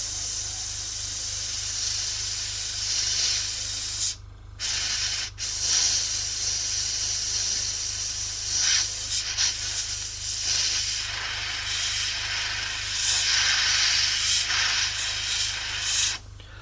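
Airbrush misting acrylic paint onto a Bandai A-Wing model kit, a steady close hiss running almost continuously with two brief cutoffs early on and small pulses as the trigger is worked.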